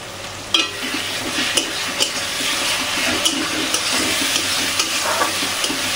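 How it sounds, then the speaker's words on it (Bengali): Spice paste with Kashmiri chilli powder fries in goat fat for ghugni cooked for Durga Puja, a loud, dense, continuous sizzle close by, with irregular clinks and scrapes of stirring throughout. "মশলাটা আমি ভালো করে কষিয়ে নেব।"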